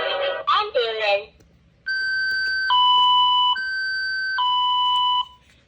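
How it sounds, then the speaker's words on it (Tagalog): Electronic ambulance siren from a children's educational toy, a clean two-tone wail alternating high and low for several seconds, loud and close, following a brief burst of talk. "ambulance."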